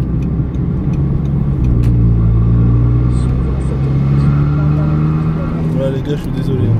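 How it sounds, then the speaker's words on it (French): Audi TT mk2 with S-tronic gearbox and a large-volume air intake, its engine droning loudly from inside the car as the revs climb in a smooth rising tone, with a low rumble beneath. "Je sais pas si vous allez entendre la petite aspiration d'air de l'admission"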